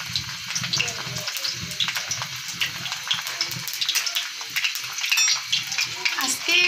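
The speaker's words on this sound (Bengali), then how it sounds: "আমি ডিমটা বেজে নিচ্ছি" An egg fries in a pan, giving a steady close sizzle with scattered crackles and small stirring or scraping sounds, and speech is faintly present in the background.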